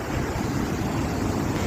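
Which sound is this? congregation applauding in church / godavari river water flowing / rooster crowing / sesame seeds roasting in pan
godavari river water flowing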